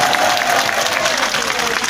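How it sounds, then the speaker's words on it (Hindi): A rally crowd at a Delhi election political event claps together, a dense continuous wash of applause throughout the short stretch. "इनके लिए जोरदार तालियां एक बार पीछे तक बजनी चाहिए।"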